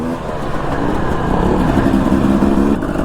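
A dirt bike enduro motorcycle rides through Utah's rocky White Wash and Dead Cow formations, its engine droning loud and steady throughout, with no talk over it.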